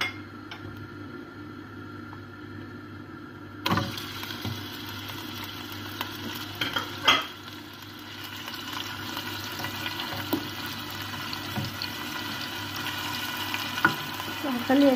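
Meat browns in oil in a pan, a soft sizzle that turns fuller partway through as the pieces are turned and stirred, with scraping bumps of the spoon and no voices.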